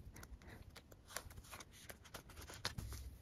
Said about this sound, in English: now we can finally put this card away